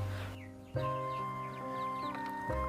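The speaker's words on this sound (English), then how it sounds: "This is the chicken. Chicken crave banana a lot." Backyard chickens in rural Vietnam cluck and murmur softly while pecking at banana mixed with bread, close and steady over a low background hum.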